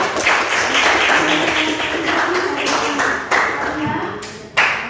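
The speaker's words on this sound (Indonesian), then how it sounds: "berikan aplaus untuk kelompok 3" A classroom of students claps for a group, a dense, loud burst of hand claps that fades a little and then picks up again in a few sharp swells.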